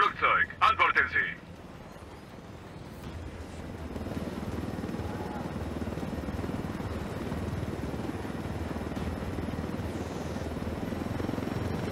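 A helicopter in the video game Ghost Recon Wildlands thrums as a steady, continuous rotor and engine drone that fills most of the stretch, with brief game sounds at the start.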